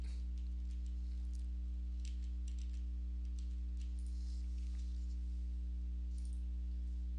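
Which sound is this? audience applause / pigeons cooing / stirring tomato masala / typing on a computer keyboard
typing on a computer keyboard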